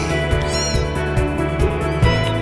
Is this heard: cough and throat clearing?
no